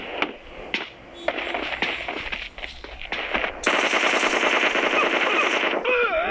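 M4 rifle fire in a video game: scattered single shots, then a long, loud, continuous automatic burst close up, ending in a brief electronic whine.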